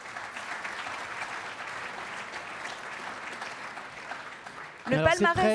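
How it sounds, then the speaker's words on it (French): Audience applause fills the hall at a security directors' awards gala, a steady moderate clapping that continues until a voice begins speaking near the end. "Nous pouvons donc les applaudir ce soir"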